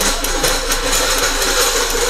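A car engine that loses power on inclines and flat roads runs steadily at idle, a constant mechanical hum with a faint rhythmic ticking, close and moderately loud, with no voices.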